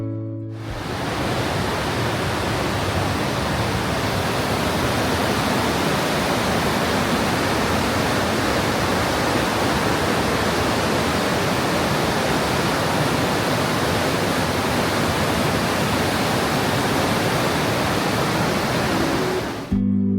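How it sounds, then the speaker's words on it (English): Rapids in a deep Swiss canyon with walls 300 metres high give off a roar of rushing whitewater, a dense unbroken rumble that stays loud and even from start to finish. "The roar of the rapids bouncing off the 300-metre high canyon walls was immense."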